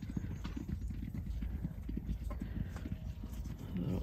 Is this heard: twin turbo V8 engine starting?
no